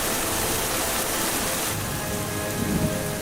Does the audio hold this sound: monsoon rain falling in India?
yes